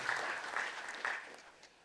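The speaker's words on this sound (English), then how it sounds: "just a round of applause for them and all the support they have given us" Applause from an audience at a centennial celebration, many hands clapping together at moderate volume, heard somewhat distant and fading slightly at the end.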